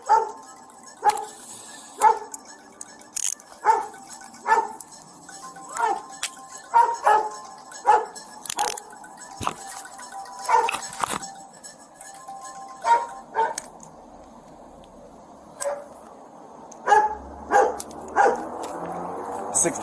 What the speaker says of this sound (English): there's a canine in my car